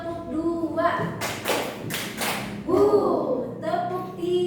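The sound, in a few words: children clapping in a classroom clapping game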